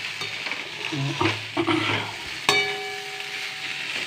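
Meat for a curry being stirred and fried in a pan, close crackling sizzle broken by scraping strokes of a utensil and a sharp metallic clink partway through.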